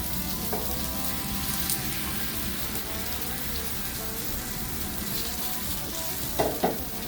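Eggs frying on a hot flat-top griddle at about 330 degrees give a dense, steady crackling sizzle throughout, close and even, with a couple of faint clicks near the end and no speech.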